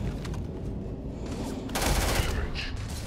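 Rapid bursts of gunfire crackle continuously over a dense noisy background, with a louder volley partway through, in Starfield game audio.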